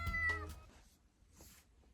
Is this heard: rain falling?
no